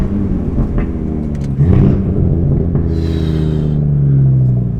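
A tuned Audi RS3 engine rumbles close by through a string of low-rev downshifts, its exhaust note rising and falling in short revving blips over a steady drone.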